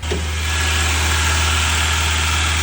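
A Nissan S-Cargo's carbureted 1.5-liter four-cylinder engine idles with a steady, close, even hum and a low vibration throughout, with no talking.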